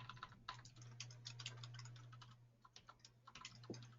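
Quick bursts of keystrokes on a computer keyboard, irregular clusters of taps over a steady low electrical hum, close and fairly quiet with no voices.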